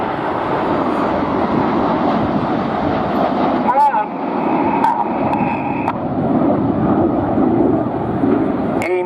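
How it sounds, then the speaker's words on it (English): Jet aircraft of the Red Arrows Synchro pair approach over RIAT 2016, a broad, rising roar that thickens over several seconds, heard outdoors with a commentator talking over the public address. "look to your right as we see the 2 aircraft of the Synchro pair approaching"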